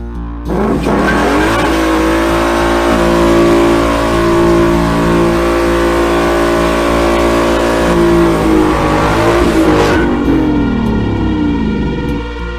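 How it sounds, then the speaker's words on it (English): A 2016 Mustang GT roars through a sustained burnout, its engine held at high revs with a steady harmonic drone and tire hiss, then dropping off near the end as the revs fall away. "See if we can make some noise and do a healthy burnout."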